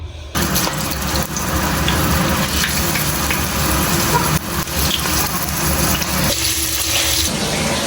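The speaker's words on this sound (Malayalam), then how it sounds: "ഇനി നമുക്കിതൊന്ന് ഫ്രൈ ചെയ്തെടുക്കാം." Chicken sizzling as it fries in a pan for a coconut chammanthi, a steady, loud hiss and crackle that runs nearly the whole time, with a brief dip partway through and a slight change in texture near the end.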